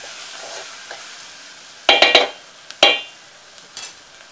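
Turmeric, masala and salt being stirred into a pan for dry Bombay duck chutney: a few short, loud bursts of scraping and sizzling between quiet stretches, with no voices.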